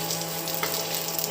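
A pinch of asafoetida hits hot oil for a Bengali-style pumpkin curry, producing a brief, steady sizzle close up with a faint crackle and no speech.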